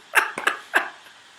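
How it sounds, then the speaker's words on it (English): Three quick, close coughs burst out in a row from a person, the last one trailing off into quiet breathing. "Cough."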